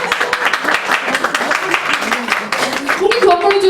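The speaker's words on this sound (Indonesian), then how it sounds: "Tepuk tangan." A church congregation claps in a brisk burst of applause while voices speak and exclaim over the clapping.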